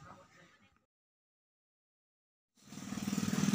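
A motorcycle engine roars up after a brief silence, growing louder and closer with a rising, pulsing rumble.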